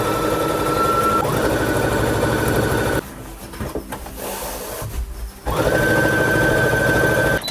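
A sewing machine stitches elastic onto a gingham tiered skirt, running loud with a fast steady whir, pausing for a few seconds of fabric handling, then starting up again at full speed.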